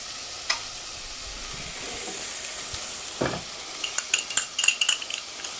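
Tofu with crushed ginger and chilies sizzling in a hot pan, a steady close hiss with scattered spatters and spoon-stirring scrapes growing busier toward the end; no talking.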